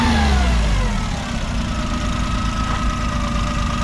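A 1995 Suzuki Alto Works RS-Z kei car with a small factory turbo and top-mount intercooler idles steadily, a close, even mechanical hum with a faint whine, after a brief dip in revs at the start.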